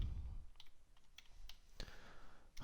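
Keys on a computer keyboard being typed in short, scattered taps and clicks, fairly faint against a quiet background with no talking.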